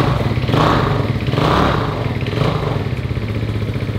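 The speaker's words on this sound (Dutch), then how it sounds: "Er is een Akrapovic uitlaatje ondergaan, die klinkt zo." A small Italjet Dragster 200 scooter engine revs up and down in rough surges, loud and close, with a raspy, clattering exhaust note through an Akrapovic full exhaust system, and no voices.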